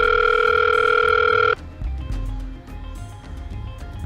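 A telephone tone plays loud and steady for about a second and a half, then cuts off abruptly and gives way to low background rumble and faint clicks.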